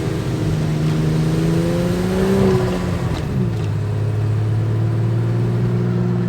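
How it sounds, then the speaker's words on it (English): A turbocharged EcoBoost car engine drones loudly and close as it strains to accelerate up a hill, its revving pitch climbing and then dropping back to a lower steady hum. "Let's see if the EcoBoost can accelerate up the hill."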